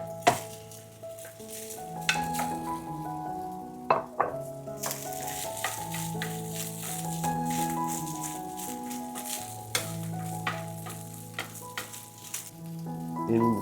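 Chicken fried rice sizzles and crackles in a hot pan, with repeated stirring scrapes and a few sharp clinks of the utensil against the metal over a steady frying hiss.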